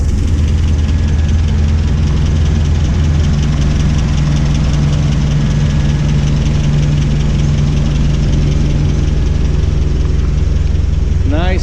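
A 1962 MG MGA MKII roadster engine idles steadily after starting, a loud, close, even rumble throughout.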